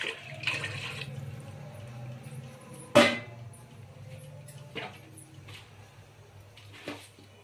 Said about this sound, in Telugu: వన్ అండ్ హాఫ్ వాటర్ పోసుకోవాలి